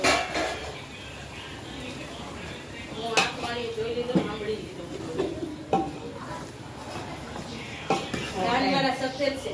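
Potatoes are stirred in a cooking pan with a spoon, giving soft scraping and occasional metallic clinks close by, while someone talks over the kitchen sounds.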